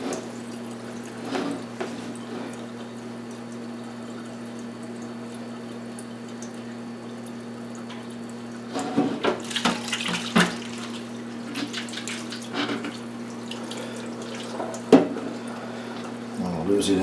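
Whey drains from a colander into a kitchen sink while scamorza cheese is made, a steady trickling wash over a constant electrical hum, with a few splashier clatters midway and someone talking over it.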